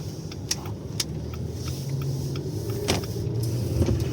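A car drives along a residential street in a Ukrainian village and turns left, a steady close rumble of engine and road noise with a few faint clicks over it.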